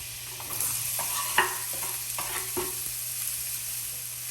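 Onion and garlic sauté in butter in a pan, in a creamy beef stroganoff, with a steady soft sizzle broken by scraping spoon strokes and light clinks, close by with no talking.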